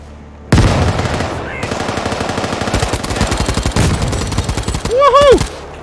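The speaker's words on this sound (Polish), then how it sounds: "Rozpętałem full auto śmierci!" Fully automatic gunfire in the shooter game World War 3 hammers out as a long, loud, rapid stream of shots, close and continuous, with a brief shout of excitement near the end.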